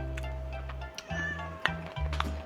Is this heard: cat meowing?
yes